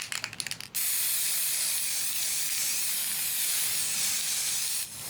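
Aerosol spray paint hisses in one long continuous burst lasting several seconds, close and loud, as masks are coated, with a few brief clicks and rattles just before it starts.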